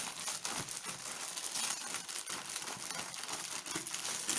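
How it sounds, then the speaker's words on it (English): Potato doughnut dough is slowly released from a plastic bag, making continuous close crinkling and rustling of the plastic, fairly quiet, with no voices. "Slowly release it from the plastic bag."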